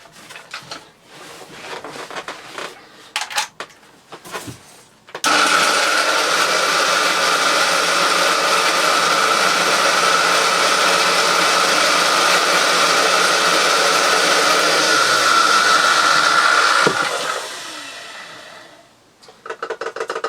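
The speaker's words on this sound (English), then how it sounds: "That is a dry, unhappy motor." An old Hoover Junior 375 upright vacuum cleaner with a dry motor starts after some clunks, running loud and steady with a harsh whine for about twelve seconds before spinning down.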